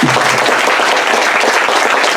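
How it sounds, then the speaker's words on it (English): Steady applause from an audience at a Universal Day of Peace gathering, dense and continuous clapping filling the space at close range with no voices on top. "I think we should applaud that."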